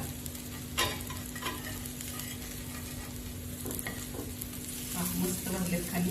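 Vegetables shallow-fry in a little oil until crispy, giving a continuous crackling sizzle with occasional clicks and scrapes of stirring, steady and close.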